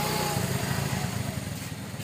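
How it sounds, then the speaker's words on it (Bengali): A motorcycle engine runs steadily and close by as a girl learns to ride it below a home, a continuous low throbbing drone with no talk over it. "দেখতেই পাচ্ছেন এই যে সাদিয়া মোটরসাইকেল"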